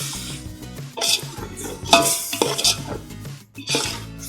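Chicken biryani masala with lemon and yogurt is stirred in a pot, with scraping spoon strokes against the metal and a soft sizzle of frying underneath, loud and close in uneven bursts.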